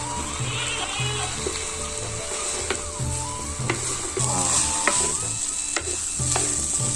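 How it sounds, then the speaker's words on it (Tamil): Fried soya chunks being stirred into a tomato masala in a pan: continuous close sizzle with scraping stir strokes and a few sharp clinks, with music playing underneath and no talking. "பொரிச்சு வச்சிருந்த சோயாவை உள்ளே சேர்த்து நல்லா கிளறி விட்டுடலாம்"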